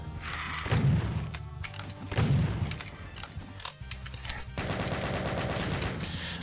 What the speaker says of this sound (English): minigun's much better for Lost Souls than the shotgun is